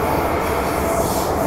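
A Hong Kong MTR train runs steadily, a loud continuous rumble of wheels and carriage noise with a faint high squeal, filling the whole short stretch with no one speaking.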